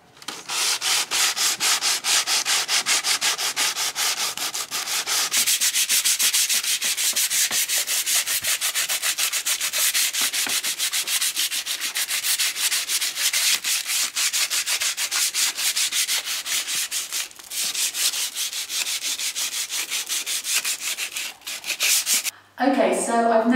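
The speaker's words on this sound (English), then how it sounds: "I've now lovingly sanded my table down" A wooden table is sanded with a steady, loud abrasive rasping, the even scratchy friction continuing close up with brief pauses, alone until a short, faint voice near the end.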